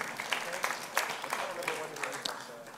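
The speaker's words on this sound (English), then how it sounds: "Round of applause." Faint scattered clapping from an audience at an awards show, with irregular hand claps and some cheering.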